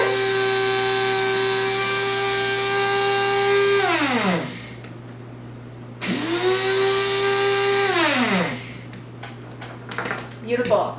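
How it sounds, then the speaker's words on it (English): A small electric herb grinder with a removable bowl whirs up and grinds rosemary in two close bursts, its motor pitch dropping as each burst winds down, followed by light rattling. "this little grinder that I got has a little removable bowl"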